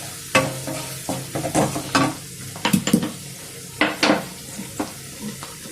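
Onions, green chillies and curry leaves fry with a pinch of turmeric in a pan. Irregular scraping stirs and short sizzling bursts come up close and fairly loud over a soft hiss, with no talking.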